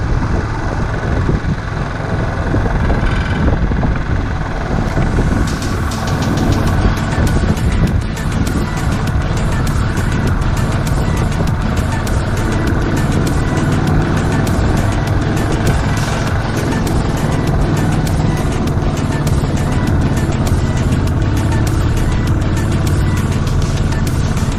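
A car engine runs steadily on a mountain road in Leh-Ladakh near Likir, a continuous broadband rumble mixed with wind noise, close and fairly loud throughout.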